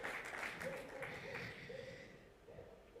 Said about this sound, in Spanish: Un aplauso para nuestro pianista, por favor.